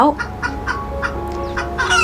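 A rooster and hens cluck and crow nearby in a short burst, with busy farmyard chatter of several birds overlapping.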